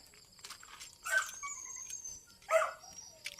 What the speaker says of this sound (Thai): พี่โคก็เห่าจังเลย